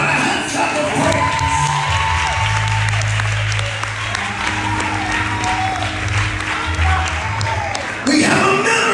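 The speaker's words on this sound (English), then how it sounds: "Somebody give God a hand clap of praise." A large congregation at a church general convention claps praise to God, loud sustained applause mixed with cheering and shouting voices, with a low organ or keyboard chord sounding underneath and a burst of louder clapping at the end.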